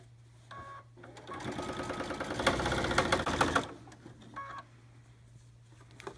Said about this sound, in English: And then we just stitch along in the ditch.